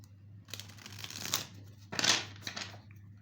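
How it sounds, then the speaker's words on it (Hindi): A tarot card deck is cut and shuffled by hand, giving two quiet, close bursts of riffling and crinkling card noise over a low steady background hum. "पहले हाफ डेक कट कर लेते हैं ताकि सब कुछ शफल हो जाए।"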